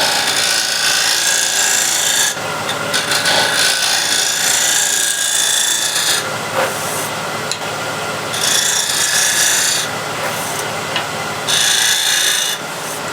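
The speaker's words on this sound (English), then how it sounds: "I'll finesse the curve again using scraper" A scraper shaves the curve of a wood-turned box spinning on a lathe, a bright, hissing scrape that swells and eases in repeated passes, close and loud.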